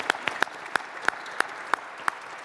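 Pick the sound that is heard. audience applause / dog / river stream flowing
audience applause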